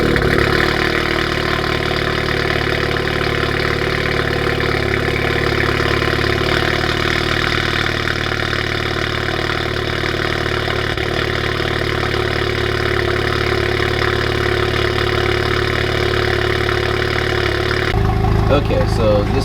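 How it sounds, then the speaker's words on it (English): A Honda Civic Type R with a catless downpipe and its exhaust valve fully open idles warm in a steady, droning rumble, close and constant, with a brief change near the end. "this is the idle noise, fully open"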